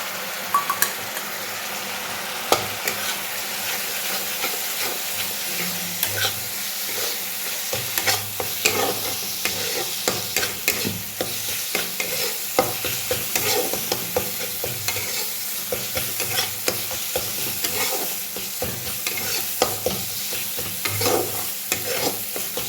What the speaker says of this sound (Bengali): মশলাটা একটু কষাবো, একটু জল অ্যাড করছি, না হলে মশলাটা পুড়ে যাবে